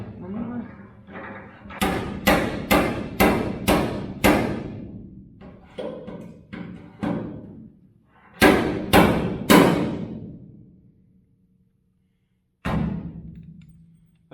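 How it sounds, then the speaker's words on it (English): A slide hammer pulling welded studs on a dent in the body of a 1966 Dodge crew cab truck: loud bursts of rapid, sharp metallic thuds in quick series, separated by pauses. "You go and find the slide hammer."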